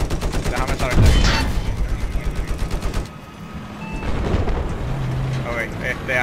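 Battlefield 4 gunfire crackles in rapid, evenly spaced bursts, loud and close, then drops away before resuming more faintly amid battle noise, with voices talking over parts of it.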